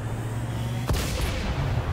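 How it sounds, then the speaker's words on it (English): A heavy cannon blast in the video game XCOM 2: a deep, sudden boom cuts in over a low droning hum, followed by a brief rumbling tail and faint high crackle. "Fire the mega cannon."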